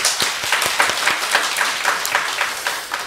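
A church congregation applauds in praise of God during a Sunday worship service, a dense, steady wash of many hands clapping at close range with no voices on top.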